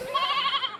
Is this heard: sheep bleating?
yes